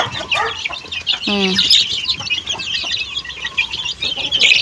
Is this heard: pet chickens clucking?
yes